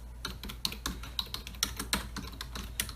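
Fingers type on a computer keyboard in a steady run of close, clicky keystrokes with uneven spacing and a few firmer taps, no voices.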